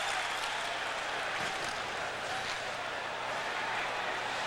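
An ice hockey arena crowd roars steadily through a Nordiques at Rangers 1995 playoff game, with a broad, sustained din and a few sharper swells rising out of the noise.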